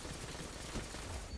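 Rapid gunfire bursts from an auto rifle and shotgun in a first-person shooter match, continuous loud firing with sharp impacts packed across a short stretch.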